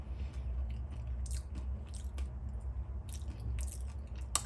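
Raw vegan granola-like bread chewed close up, with moist crunchy bites and squishy mastication in a steady rhythm, no talking.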